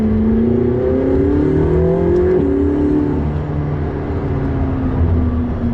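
A McLaren 675LT's engine revs and pulls hard under acceleration, a loud, steady engine note climbing and shifting in pitch close by, with no talking.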